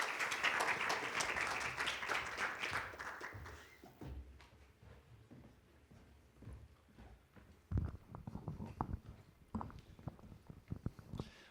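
Audience applause at a literary festival talk on radio, welcoming two speakers to the stage; a full burst of clapping for about four seconds, then thinning into scattered claps and footsteps with a later small flurry.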